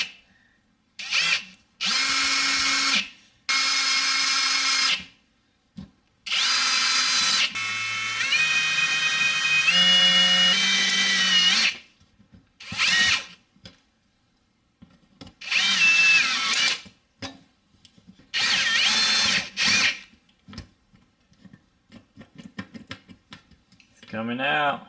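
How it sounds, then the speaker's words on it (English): A power drill with a 1/4 inch bit drills out plastic rivets on a 2007 Toyota Highlander Hybrid fuel door, whirring in repeated short bursts, starting and stopping, close by, with someone talking between runs. "it's gonna be easy to drill it out. You're gonna use a 1/4 inch drill bit."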